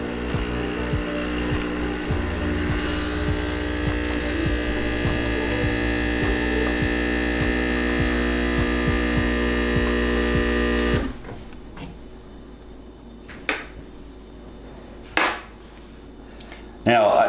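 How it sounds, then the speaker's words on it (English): A single shot of espresso pulls from a well-tamped portafilter, the machine's pump droning loudly and evenly for about ten seconds before cutting off, followed by light clinks and quiet room noise. "Starting with number 1, the single shot of espresso. Well tamped. And we're gonna run this about 10 seconds."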